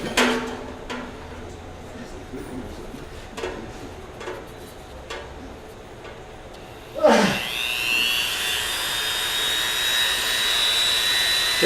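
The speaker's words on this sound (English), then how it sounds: "Just a Dremel tool with a little saw blade on it." A Dremel rotary tool fitted with a small saw blade starts up abruptly after a few scattered ticks and clicks. It gives a high, steady, buzzing whine as it cuts into PVC.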